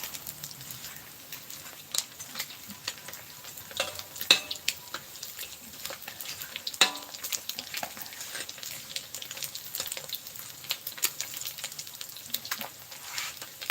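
Fish frying in hot oil makes a continuous crackling sizzle with frequent sharp spits and pops, close by and fairly steady, with no voices.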